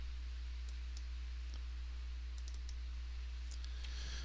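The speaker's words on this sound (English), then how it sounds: "I'm going to double click my part here." Mouse clicks at a computer while working in Altium Designer, a few sharp, close, quiet clicks scattered over a faint steady hiss, including quick paired taps.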